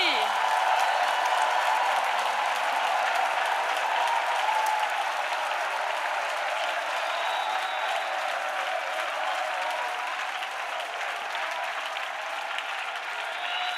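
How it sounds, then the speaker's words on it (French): A church congregation claps loudly for Jesus Christ at a prayer and intercession gathering, producing a sustained, dense roar of applause that holds steady throughout and eases slightly near the end. "Let us clap for Jesus Christ. Très fort. Let us clap loudly."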